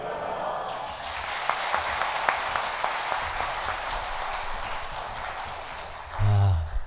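A church congregation at a spring revival evening service claps together, a broad, steady round of applause with sharp individual claps, ending in a brief low rumble of movement or a voice near the microphone.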